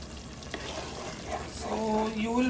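A thick white bean masala gravy is stirred in a pan, giving a soft bubbling sizzle with a few scraping strokes. A brief tonal whine rises near the end, and no one speaks.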